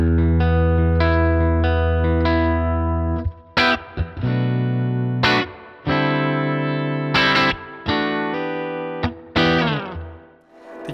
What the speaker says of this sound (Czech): Když to dám jako výstup mod off, tak by měl jet ven jenom preamp.